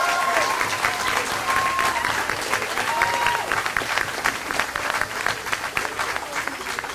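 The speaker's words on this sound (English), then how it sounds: "let's give a round of applause to Cardenas Motors for hosting us" An audience applauds at a car giveaway event held at Cardenas Motors, a steady wash of clapping that continues through the whole stretch with some speech-like sound mixed in.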